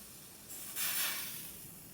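A faint hiss of DPF cleaning chemical being sprayed into a Land Rover Evoque 2L exhaust, starting softly, surging briefly and then easing off.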